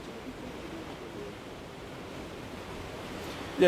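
Strong typhoon wind and waves roar at Incheon harbor as a steady, broad rushing noise, with a sudden gust at the very end.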